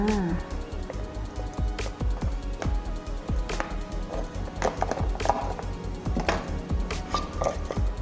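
Santol fruit pieces dropped into a mortar and pounded for a Thai santol salad with fermented fish sauce: steady repeated thumping and clattering of pestle on mortar, close and busy, with someone talking over it.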